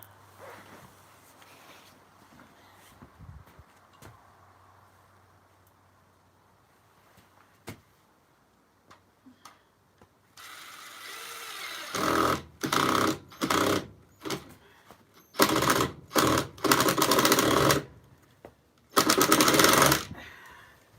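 Screws being driven into door hinges with a power driver, a quiet start with a few faint clicks followed by several loud buzzing bursts of varying length separated by short pauses.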